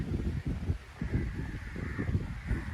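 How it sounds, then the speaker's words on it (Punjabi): Many crows caw around a village under dark rain clouds, a hoarse, overlapping chorus at moderate distance over rustling, windy ambience. "ਕਾਂ ਬੋਲ ਰਹੇ ਆ ਬੜੇ।"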